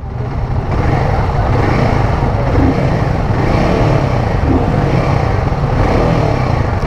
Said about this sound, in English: just trying to rev it a bit to see how the bike feels